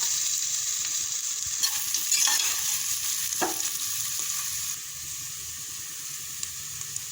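Ginger garlic paste sizzles steadily in a hot pan, a constant hiss with a few light stirring scrapes, settling slightly quieter after a few seconds.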